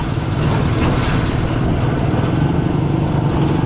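A motorcycle engine idles close by, a loud steady low rumble that holds without pause and has no talking over it.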